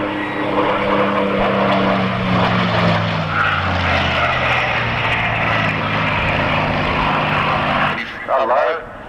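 Propeller-driven fighter plane roaring past low at an airfield airshow, a loud, sustained engine drone with falling pitch as it goes around again, heard from the crowd with a voice talking over it.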